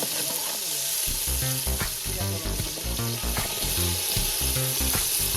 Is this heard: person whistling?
no